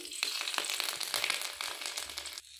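Mustard seeds and garlic cloves frying in hot coconut oil in a pan, a bright dense sizzle with crackling pops that fades out abruptly at the end, close and alone.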